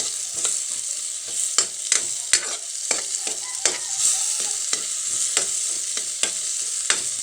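Sardines and vegetables sautéing in a pan, a steady bright sizzle broken by repeated sharp scrapes and clinks of a spatula stirring at an uneven rhythm, close and with no talk.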